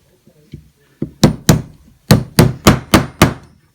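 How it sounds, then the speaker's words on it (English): Frame pins tapped into a Ruger LCP II polymer pistol frame with a hammer make a few light taps followed by seven sharp, loud, close strikes in an uneven rhythm. "now we'll put our frame pins back in"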